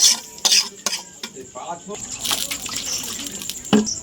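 Water poured into a pressure cooker holding washed dalia and dal with tempering for vegetarian khichuri, a loose sloshing splash with clinks of utensils against the pot, close by in a kitchen.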